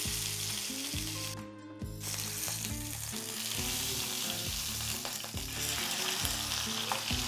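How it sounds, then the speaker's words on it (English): Eye of round beef sears in a hot skillet, a loud, continuous sizzle and crackle with occasional stirring or shifting sounds and no voices. "We'll set it right here and let it sear up."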